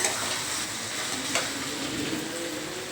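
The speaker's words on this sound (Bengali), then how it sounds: "কড়াইতে তেল দিয়ে পেঁয়াজ আলুটা দিয়ে ভেজে নিয়েছি" Onion and potato fry in oil in a kadai, a continuous even sizzle with faint crackles and a brief clink or two, close and steady throughout.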